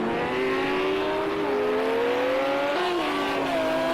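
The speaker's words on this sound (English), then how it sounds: "we watch this Aston Martin going flying down that back straight" An Aston Martin GT3 race car in a racing sim screams at high revs down a straight, its loud steady engine drone rising through gears with a brief shift dip, no talk over it.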